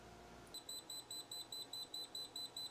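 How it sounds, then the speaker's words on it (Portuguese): A thin, high-pitched electronic alarm beep from a FNIRSI HS-02 soldering iron with no tip fitted repeats steadily, about four times a second, loud and clear over a faint background hum. "Ele dá um alarme indicando que eu não coloquei a ponteira."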